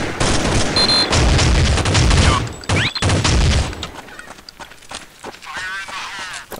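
A shotgun firing in Counter-Strike: Condition Zero: loud, dense blasts and gunfire packed into the first few seconds, then quieter footsteps and scattered game sounds.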